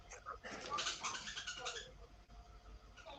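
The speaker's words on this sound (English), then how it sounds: "I hear a bird. Who's got a bird?" A bird calls in a participant's room during an online video call, several soft cooing and chirping notes coming through faintly and slightly distant, mixed with low room noise.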